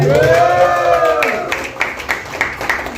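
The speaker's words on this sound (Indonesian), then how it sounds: "Tepuk tangan." Audience applause at a political talk supporting a 2024 presidential candidate, rising as a sung or spoken voice fades, then scattered claps continuing with crowd noise.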